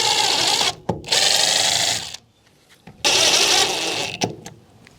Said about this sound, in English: So I'm going to be drilling a pilot hole. I'm going to be using a 3/16 drill bit.